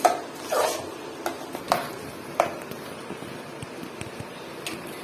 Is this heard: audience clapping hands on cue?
no